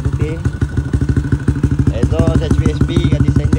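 A modified Yamaha LC V1 motorcycle engine with an HVSP exhaust in place of the stock one runs with a steady, rapid thumping beat, close and loud, while someone talks over it.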